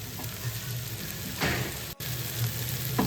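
Onions frying in a pan give a soft, continuous close sizzle with a brief hiss swell and a short dropout midway.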